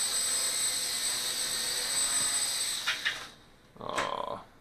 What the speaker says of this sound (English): so we'll take her in for our landing